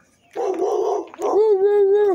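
A dog in a backyard giving a loud, close, drawn-out bark that bends into a whining howl, two long bursts with a brief break between them.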